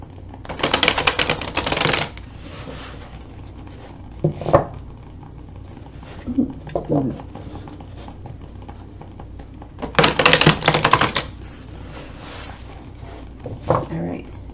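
Two bursts of rapid riffling as cards are shuffled, with soft taps and card handling between them in a quiet room.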